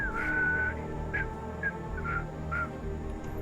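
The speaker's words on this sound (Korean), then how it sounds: "휘파람." A character whistles in the game Starfield: a series of short, high whistled notes, the first one held longer, repeats over a low steady background hum, with no speech.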